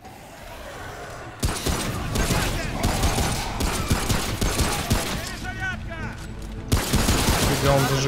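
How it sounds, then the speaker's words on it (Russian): Rapid bursts of gunfire with incendiary rounds in the video game Remnant: From the Ashes, dense overlapping shots and cracks running almost continuously, with a louder volley near the end. "Он зажигательным каким-то стреляет."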